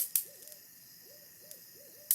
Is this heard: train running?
no